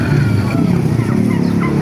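Chickens at an open-air poultry market in Baliuag, Bulacan, make a dense, continuous din of low clucking and fowl calls under busy market noise, with possible passing engines nearby.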